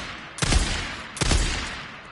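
Two loud gunshots from a weapon in the video game Days Gone, about 0.8 seconds apart, each a sharp blast with a lingering decay, no talking.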